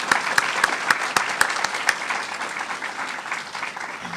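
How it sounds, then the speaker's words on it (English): Applause for a guest speaker at a university graduation ceremony, a large audience clapping in a warm, dense burst that opens with sharp claps and settles into steady, fading applause, with no voices. "give another warm round of applause to our guest speaker today"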